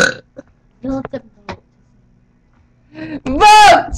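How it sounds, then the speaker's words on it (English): Children in a burping contest let out a few short burps and grunts with pauses between them, then one long, loud, drawn-out burp at the end. "try and figure out who won the burping contest"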